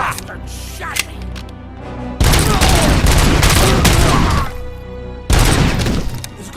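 Heavy gunfire in the video game RoboCop: Rogue City, loud dense bursts of shooting that come in two long volleys, with quieter stretches and voices between them.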